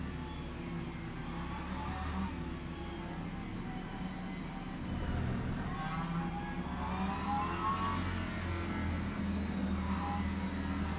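A GT3 race car engine at Spa in the racing game Le Mans Ultimate, a steady droning engine note that rises and falls with revving and shifting. It sounds continuous and fairly even, with no pauses.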